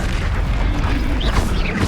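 A Bombarda explosion spell going off in the Hogwarts Legacy video game, a loud, close, rumbling boom that holds for nearly two seconds with no talk.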